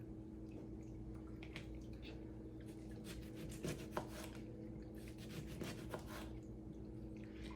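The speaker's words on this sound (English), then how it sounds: "And then you just want to cut these into slices." A knife slices a lemon into thin rounds for fruit-infused water, giving soft, quiet rasping cuts in an irregular rhythm over a low steady background hum, with no talking.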